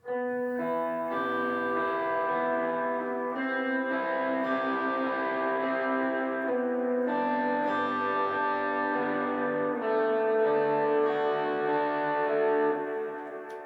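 An electric guitar picks out arpeggiated chord triads in a slow progression, each chord ringing clearly with a light effects-processed tone.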